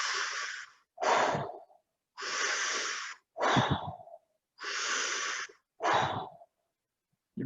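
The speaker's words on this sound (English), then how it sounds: "And then it would be that sort of deep, slow, powerful breath." Deep, slow, powerful relaxation breathing: six alternating inhales and exhales, each about a second long, close and clear with short pauses between, in a quiet room without talk.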